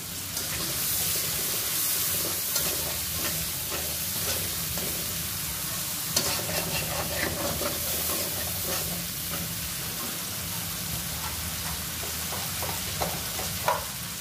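Green chillies fry in a pan with onions, turmeric and water for a puti fish mustard curry, giving a steady, close sizzle that runs throughout, broken by occasional stirring scrapes and clicks.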